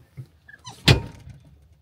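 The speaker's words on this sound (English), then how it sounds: "I'll shut the door on her and she'll bark at me" A farm shed door is shut on a heifer, giving one solid thunk after a few small scrapes and creaks, close and alone.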